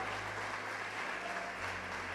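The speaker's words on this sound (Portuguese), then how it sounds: "Vamos aplaudir ao Senhor pela família." A church congregation at a conference service applauds steadily, a dense even wash of clapping from a large room that holds at an even level for about two seconds, with no voices standing out.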